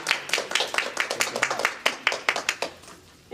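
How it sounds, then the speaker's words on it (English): A crowd claps in a steady patter of sharp hand claps, fairly close, fading out toward the end. "let's give Miss Desiree Bell Rose a big round of applause for owner of Desi Design."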